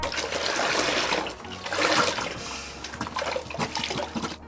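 About 1.5 liters of milk pouring into a large bowl of sweet waffle batter, a sloshing, splashing flow of liquid lasting a few seconds, close and alone.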